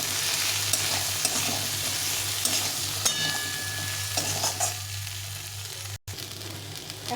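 Black chickpeas and potatoes sautéing with turmeric, cumin and chili powder, a continuous close sizzle with repeated spatula stirring and scraping in the pan, no voices.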